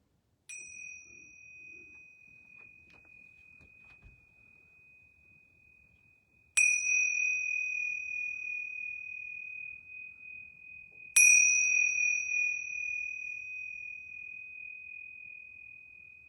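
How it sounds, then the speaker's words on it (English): Bells rung three times during a yoga session, each strike a bright ringing tone that sustains and slowly fades, spaced several seconds apart in an otherwise quiet room, the later two louder. "I'm going to ring these bells 3 times"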